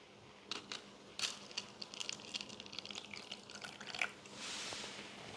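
Water trickles and drips gently into a container for soaking cucumber seeds, with faint irregular splashes and small clinks close by, then a soft steady pour near the end.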